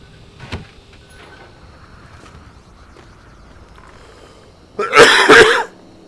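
A person coughs once, a short harsh burst near the end, following a faint click and quiet background rumble.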